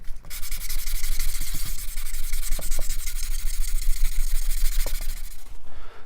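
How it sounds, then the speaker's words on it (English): Foam block sander smoothing cured epoxy on a repaired plastic car part: steady, close, raspy back-and-forth rubbing that continues without pause, with no voices. "I'm actually using a foam block sander here to take down all the extra material and smooth out this area"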